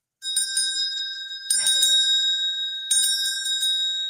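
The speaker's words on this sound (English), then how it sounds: "Is there a proper technique for bell ringing when you're working one of the Salvation Army kettles?" A handheld bell, the kind rung at a Salvation Army donation kettle, rings clearly and close in three bright bursts of rapid clanging. Each burst leaves a sustained metallic ring, with no voices over it.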